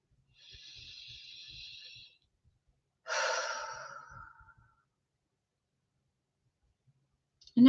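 A person taking a slow, deliberate breath during a quiet guided tapping session: a soft airy inhale, a pause, then a longer breathy exhale, close and alone.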